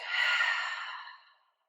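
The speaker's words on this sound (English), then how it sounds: "Deep breath in and out." A single slow, deep breath exhaled audibly, close and soft, fading out after about a second and a half during a guided meditation.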